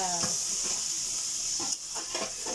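Fish frying in oil with mustard paste for a Bengali curry, a steady hiss of sizzling oil with a few soft stirring knocks, close up and without speech.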